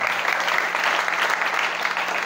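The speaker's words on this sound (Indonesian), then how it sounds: "tepuk tangan untuk SMPIT hari ini" A school seminar audience at SMPIT Green Bhakti Insani in Bogor claps steadily, a dense wash of many hands filling the whole moment at an even level.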